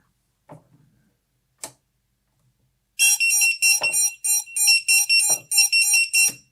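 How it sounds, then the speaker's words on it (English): After a couple of clicks, the 85-decibel lost-model buzzer on a 5-inch FPV drone beeps loudly and shrilly in rapid repeated bursts, close to the microphone, with a few handling knocks. "there's a 85 decibel buzzer"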